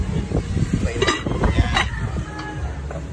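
Vegetables and shrimp sautéing in a home-cooking pan, close sizzling broken by a utensil stirring and scraping against the metal, with a few clinks and no clear speech.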